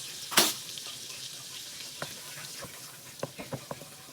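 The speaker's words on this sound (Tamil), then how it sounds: "பட்டர் நல்லா உருகட்டும்" Butter melting in a hot pan for chicken fried rice gives a steady, soft sizzle close by, with a sharp clatter near the start and a few light utensil taps toward the end.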